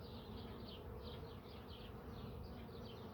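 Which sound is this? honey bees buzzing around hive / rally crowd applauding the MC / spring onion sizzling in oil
honey bees buzzing around hive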